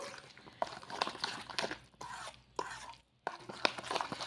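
Cucumber and coconut idli batter is mixed with curd: a quiet, steady run of wet scraping and squelching strokes, broken by one brief pause near the end, with no talking.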